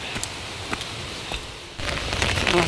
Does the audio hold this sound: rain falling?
yes